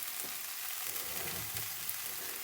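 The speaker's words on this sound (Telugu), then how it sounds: "తొందరగా మన ఆనియన్స్ ఫ్రై అయిపోతాయి" Onions fry in a pan, a steady hiss and sizzle that carries on throughout with faint stirring, and no voices.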